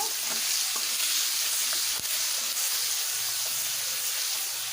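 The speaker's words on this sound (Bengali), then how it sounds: "এবারে দিয়ে দেব কোচানো পেঁয়াজ পেঁয়াজগুলোকে লাল লাল করে ভেজে নেব" Sliced onions frying in hot oil for a koi fish curry, giving a steady, dense sizzle that holds evenly throughout, with a few faint clicks of a spatula underneath.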